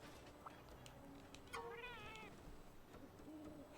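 Faint cat meows in Monster Hunter Rise, one drawn-out wavering call in the middle followed by a short softer one, set against quiet ambient game noise.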